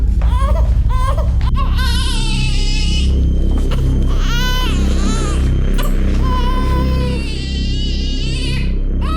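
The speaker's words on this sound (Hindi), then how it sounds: "घर में पिछले 4 घंटे से बच्चे की रोने की आवाज आ रही है" Infant crying loudly and continuously in wavering wails over a heavy low rumble of dramatic background music.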